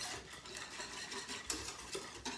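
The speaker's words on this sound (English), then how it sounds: "Give it a quick stir." Milk being stirred into a batter-like mixture in a bowl, a soft continuous swishing with light clinks of a utensil against the sides, fairly quiet and close, with no talking.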